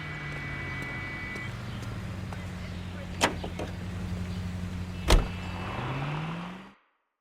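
A car driven in the L.A. Noire video game, its steady engine drone holding low and even throughout, broken by two sharp clicks or knocks partway through before the engine sound cuts off.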